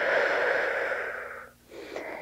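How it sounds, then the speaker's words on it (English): One long, heavy breath is drawn in with a wheezy, airy rasp during a posture workout, then a pause and a shorter breath follows, close to the microphone. "Keep breathing."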